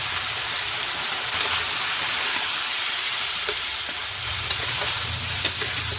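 Leftover chicken frying with masala in a pan, a loud continuous sizzle and hiss with steady stirring scrapes throughout, no voices.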